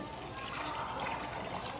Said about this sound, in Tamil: நல்லா முங்குற அளவுக்கு தண்ணி விட்டுக்கோங்க.